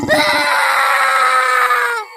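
A man's long, loud, high-pitched scream, held steady for about two seconds and then cut off, in a dramatised horror cartoon scene.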